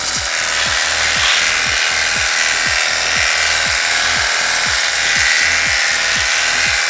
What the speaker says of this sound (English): It is actually pressure washing